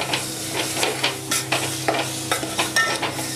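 A spoon scrapes and stirs mango raita in a pan with tempered spices, giving repeated soft scraping strokes in an uneven rhythm over a faint sizzle, close and fairly quiet with no talking.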